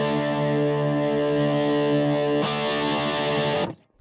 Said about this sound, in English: I'm going to hit this chord and I'm going to go past 9 o'clock and see if we can hear it going from overdrive